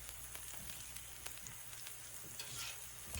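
Alligator meat sizzles slowly in olive oil with spices on a Blackstone griddle, a steady close crackle with soft stirring and no voices.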